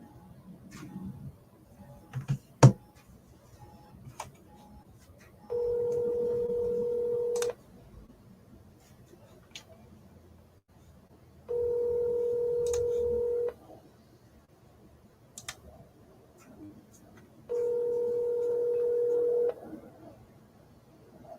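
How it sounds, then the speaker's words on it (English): Three bursts of steady telephone dial tone, each about two seconds long and evenly spaced, are heard while calling brokers, with faint background clicks in between. "Calling John after John after John"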